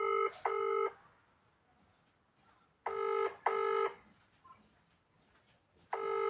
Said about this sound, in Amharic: ይኸው እየደወልኩ ነው፣ እየጠራ ነው፣ አያነሱም።